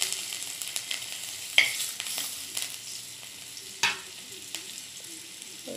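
Mustard seeds and garlic sizzle steadily in hot oil, with sharp crackling pops as pieces hit the pan, the frying continuous and close with no talking.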